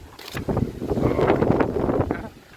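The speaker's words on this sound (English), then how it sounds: "really windy" Strong gusting wind outdoors on a property, loud buffeting rushes of wind noise hitting the microphone in uneven surges throughout.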